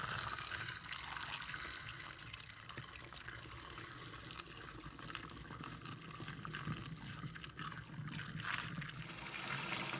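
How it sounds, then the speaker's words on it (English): Wort for a yeast starter pours steadily into a flask, a continuous soft splashing trickle that lasts throughout without any talking. "Transfer the wort to your flask."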